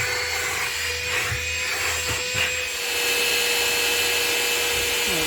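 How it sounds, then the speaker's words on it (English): Cordless handheld vacuum cleaner running steadily, a close, loud continuous whine with a high tonal hum and broadband airflow rush, slightly rising in intensity toward the end. "let's get this out and see how powerful this is going to be"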